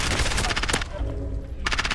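Rapid automatic gunfire in Call of Duty: Warzone, a dense burst of shots fired in quick succession, loud and close, pausing briefly before another volley at the end.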